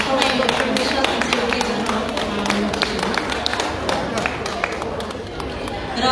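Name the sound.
audience clapping at book launch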